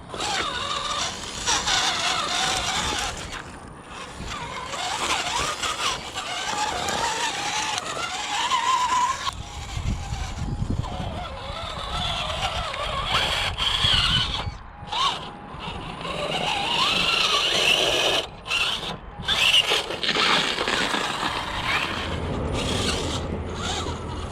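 RGT EX86010-CJ 1/10 scale RC crawler with a 550 motor driving continuously, a steady whirring motor and gear whine with scrabbling tyre and chassis noise, fairly close, no talking.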